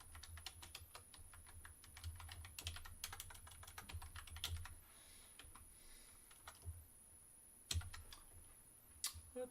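Rapid typing on a computer keyboard during live tech support, a dense run of close, light key clicks that pauses midway, resumes, and ends with a few louder isolated keystrokes.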